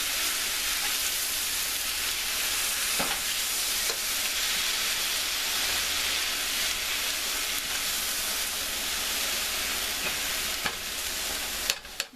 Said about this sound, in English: Now I'm going to add my shiitake mushrooms. Mix this all together.